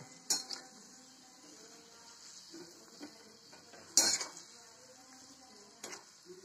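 Sweet modak fry in a pan while a metal utensil turns them over. A soft, steady sizzle runs underneath, broken by three sharp, clear clinks and scrapes of the utensil against the pan.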